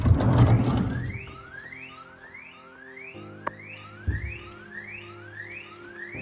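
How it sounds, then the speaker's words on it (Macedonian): An alarm sounds outside a car, heard from inside it as a steady series of rising electronic whoops, moderately loud and repeating evenly, with a few soft knocks nearby. "почна некој аларм надвор да свири"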